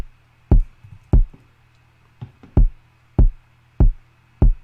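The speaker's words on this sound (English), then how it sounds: "Last thing is the kick." Punchy electronic kick drum from an FL Studio beat, hitting in a simple, evenly spaced pattern with deep thumping attacks, a few softer ghost hits, and nothing else playing.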